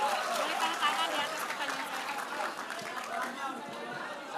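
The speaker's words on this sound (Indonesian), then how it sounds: "Terima kasih Mbak Gina, tepuk tangan dulu dong." Audience at a presidential candidate's public Q&A session in Pontianak applauds in a steady, fairly distant wash of clapping mixed with crowd chatter.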